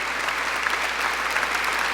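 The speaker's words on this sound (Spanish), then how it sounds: "Entonces dale un aplauso a nuestro Señor" Steady, dense applause from a church congregation, continuous and fairly loud throughout with no voices rising above it.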